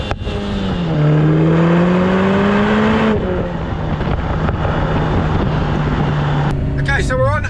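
Lotus Emira Turbo SE sports car driving through corners, a steady engine drone that climbs and dips with the throttle under heavy wind and road rush heard from inside, with a brief rising whine near the end.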